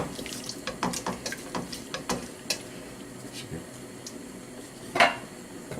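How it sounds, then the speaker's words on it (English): Carrots being mashed and stirred in a pot of butter bean and potato soup give a string of short metallic taps and clinks close by, with a louder clatter near the end and a voice briefly in the background. "having mashed the carrots now, give that a stir"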